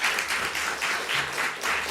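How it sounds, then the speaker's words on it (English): Summit audience applauding the panelists, a full, continuous round of clapping from many hands, close and steady with gentle swells, no talking over it. "Another round of applause for,"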